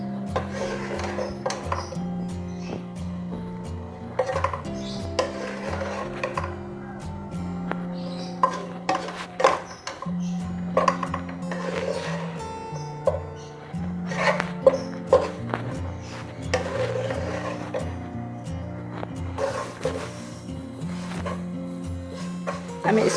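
Bread pieces stirred in ghee in a pan over a medium flame, giving repeated scraping clinks and taps of a spoon against the metal in an uneven rhythm, with steady tonal sounds running underneath.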